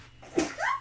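A single person's sneeze, a sharp burst followed by a brief breathy, voiced trail, fairly close and moderately loud in an otherwise quiet room.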